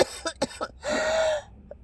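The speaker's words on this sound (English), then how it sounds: "Sorry about the coughing." Several harsh coughs from a sick adult with a fever break out in a short burst close to the microphone, followed by a longer strained throat-clearing rasp, with no speech.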